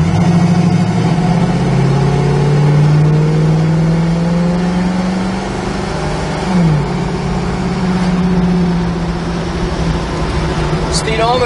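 A 1967 Chevrolet Camaro's engine runs under steady load while driving, its pitch rising and falling with changes in revs, loud and close throughout, with occasional higher whines.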